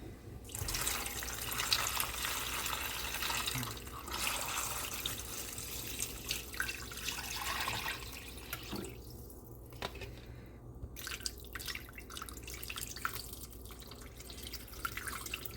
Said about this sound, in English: now we're going to top this off with just some water